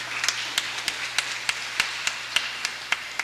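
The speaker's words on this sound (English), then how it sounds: "Clap the teachers, them man." Steady, rhythmic clapping at a primary school graduation ceremony, crisp evenly spaced claps standing out over a quieter background wash of applause.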